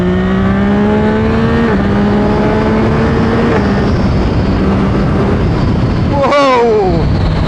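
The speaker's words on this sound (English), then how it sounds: "Let's just try the open throttle with the downward on the shifter." A 2024 Yamaha MT-09 or XSR900 GP motorcycle revs hard at open throttle, its engine note climbing in steady sweeps with quick breaks at each quickshifter upshift, then a sharp blip and drop near the end, loud and close.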